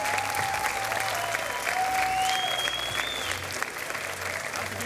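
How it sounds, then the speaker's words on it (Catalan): Steady applause from a crowd honoring the pubilla and hereu of Anglès, continuous clapping throughout with a few whistles, no pauses. "Per tant, voldria demanar un fort aplaudiment per en Marc i per la Júlia."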